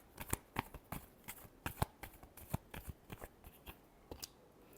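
Tarot deck being shuffled by hand, a quick run of crisp riffling snaps and flicks, close and fairly quiet, with no voice.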